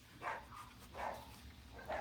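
Dogs barking at a distance, three faint muffled barks spaced roughly evenly over a low background hum.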